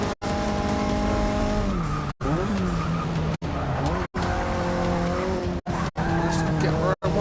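A Mazda race car at Watkins Glen in Forza 6, its engine loud and continuous with rising and falling pitch across gear shifts and brief cuts, plus tire squeal through the corners.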